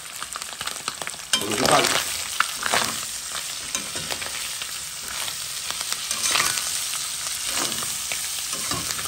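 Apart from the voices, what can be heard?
onions frying with ham in a pan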